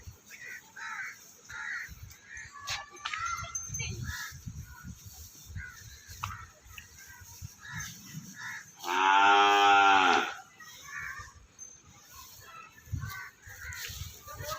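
Water buffaloes on a dairy farm, one giving a single loud, drawn-out low moo lasting about a second and a half midway, amid quieter farmyard sounds, crows cawing and faint voices.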